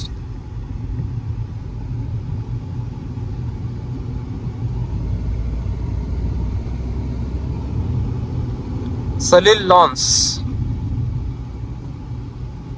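Road traffic rumbles steadily along the Pune–Solapur highway, a continuous low engine drone from passing vehicles heard close by for the whole stretch, with a brief sharp burst near the end.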